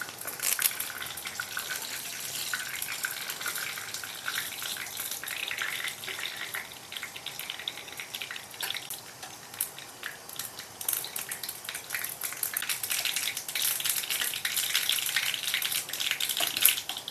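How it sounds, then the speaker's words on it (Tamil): Mustard seeds spluttering in hot oil for a coconut chutney tempering: a steady, close crackling hiss with dense sharp pops throughout, no one talking. "கடுகு பொரிஞ்சாச்சு"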